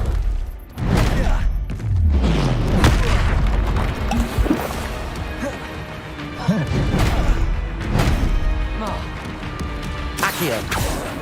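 Repeated Confringo blasting-spell explosions in Hogwarts Legacy, a string of loud booming blasts and crashes spread over several seconds amid dense game combat noise.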